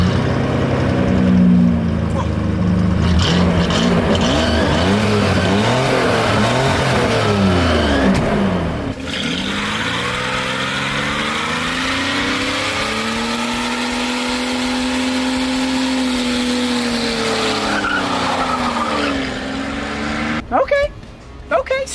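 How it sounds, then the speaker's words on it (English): A V8-swapped or stock V12 Jaguar does a burnout, its engine revving hard and sustained with rising and falling pitch, loud and close under ongoing talk, then cutting off near the end. "So each car is gonna get 1 burnout to close out this video."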